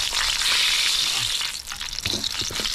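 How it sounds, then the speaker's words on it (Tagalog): Loud, steady crackling sizzle of mushrooms deep frying in hot oil, with occasional stirring clatter, close by and continuous. "Kaya pwede magluto ng ganito. Prito pong kabuti."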